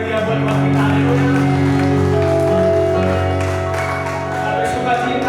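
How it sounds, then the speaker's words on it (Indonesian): A congregation at a wedding service claps and cheers, loud continuous applause with shouts and whoops while music plays underneath and voices talk. "Kita berikan dulu tepuk tangan yang meriah buat Tuhan kita"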